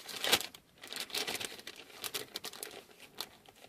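A little plastic bag crinkles and rustles up close in uneven bursts while it is handled during a fuel return kit install on a vehicle.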